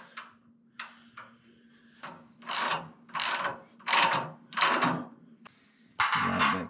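Bursts of ratcheting on a Ford F1 hot rod's shock mount bolts, a few short clicks then four or five longer rapid ratchet runs in a steady rhythm, close and loud, with no talk.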